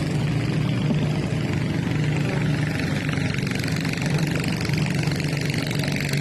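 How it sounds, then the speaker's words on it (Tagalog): A boat motor idles steadily at close range, a constant mid-pitched chugging drone that holds the same level from start to finish. "Binibira na yung motor oh."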